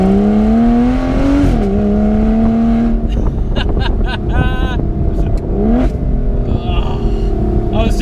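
Aston Martin Vanquish S Volante convertible engine revving loudly up and down in several close bursts, with a rising and falling tone that swells and settles back to idle.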